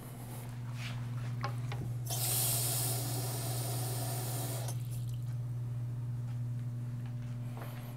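A cup of water poured into batter at a fire station kitchen, a steady hissing splash lasting a few seconds over a constant low electrical hum, close and fairly loud.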